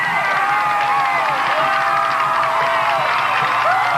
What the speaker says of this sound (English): this New Oxford crowd was big, not only big, but very excitable